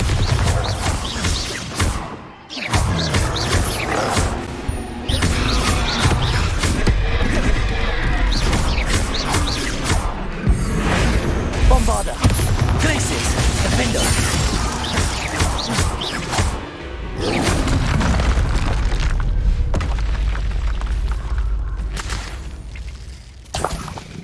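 Spell explosions and crashing impacts from Hogwarts Legacy combat in hard mode, loud repeated bursts with whooshes and heavy booms over a dense game soundscape, nearly continuous with brief dips.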